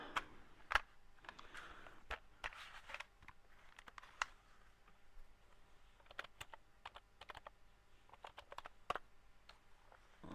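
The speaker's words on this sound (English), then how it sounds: "Bust out the keyboard." Computer keyboard typing while searching a 3D-printing model site, a steady run of quick, light clicks and key taps close by, with uneven bursts and brief pauses.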